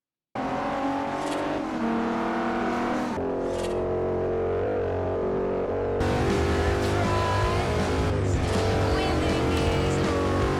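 Engine sound of cars in the racing game Forza Horizon: a loud, continuous, harmonic engine drone with revving and shifting pitch, cutting abruptly between cars, with no talking.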